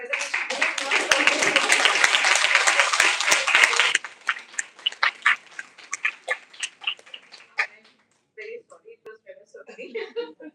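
An audience at a panel discussion event gives a burst of loud applause for about four seconds, then scattered claps trail off alongside some talking.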